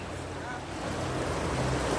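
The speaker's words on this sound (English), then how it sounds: "Oh wow, the river's high." High, fast river at spring flood level running right to its banks, a broad steady rushing roar with a wind-buffeted microphone outdoors.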